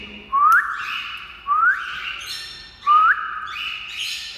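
Pet birds call in three loud, rising whistled squawks spaced about a second apart, close by and with no talking.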